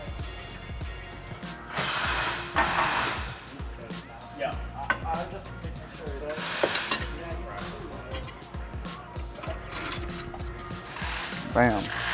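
Monoball bushing being pressed into a G35 rear knuckle, with repeated ratcheting clicks and metallic tool noise in a garage, alongside intermittent handling clatter and brief talk.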